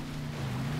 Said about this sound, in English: It just has the nice muscle exhaust note without having to bah everywhere